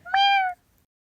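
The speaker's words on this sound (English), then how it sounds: "Oh, look, Jax got a cat." An animated digital cat gives a single short, clear meow, bright and close, then falls silent.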